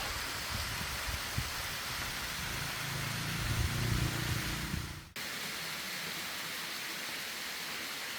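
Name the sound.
waterfall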